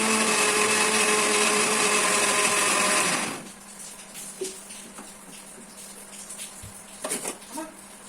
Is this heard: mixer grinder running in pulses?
yes